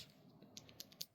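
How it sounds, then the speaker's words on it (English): Plastic arcade button fitted with a Cherry MX Red Silent switch bottoming out, heard as a few faint, close, quick clicks spaced across a second over quiet background. "So what you're hearing is the actual plastic bottoming out."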